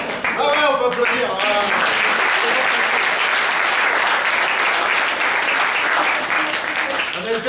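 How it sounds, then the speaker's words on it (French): An audience at a local show in Feternes bursts into sustained, dense applause that holds steady for the whole stretch, with a few voices and cheers riding on top at the start. "Ah ouais, on peut applaudir."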